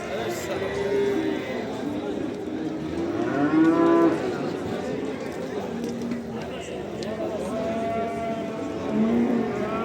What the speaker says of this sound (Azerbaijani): Kiminde bu danalar?